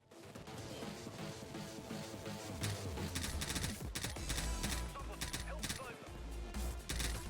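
Rapid sustained minigun fire in the video game Payday 2, dense loud bursts layered with other gunfire and game effects, continuous across the stretch with a brief gap, and voices talking underneath.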